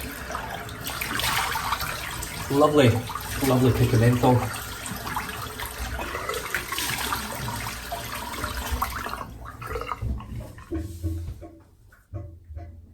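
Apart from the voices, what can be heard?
water running while rinsing out the sink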